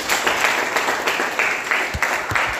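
A church congregation applauding and cheering, a dense sustained wash of clapping with scattered voices, fairly loud and close throughout.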